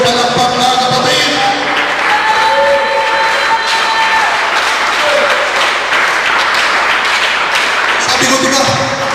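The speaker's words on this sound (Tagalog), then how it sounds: "Ngayong totoong palakpak, mga kapatid" A church congregation at a Sunday service applauding together, dense sustained clapping at full loudness for several seconds, with a voice and music tones faintly mixed underneath.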